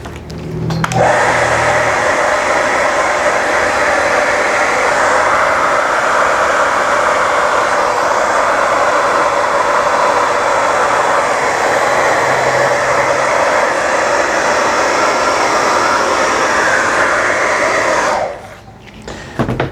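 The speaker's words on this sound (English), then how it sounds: "working with a hair dryer on acrylic pouring canvas" A hair dryer blows onto poured acrylic paint on canvas with a loud, steady whooshing hum for nearly twenty seconds, then cuts off abruptly near the end.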